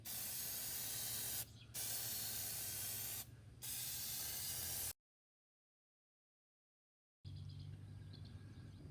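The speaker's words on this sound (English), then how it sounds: "You just spray it evenly." A spray paint can coats a foam pistol case insert black, hissing loudly and steadily in long bursts with brief breaks, then a silent gap before spraying resumes.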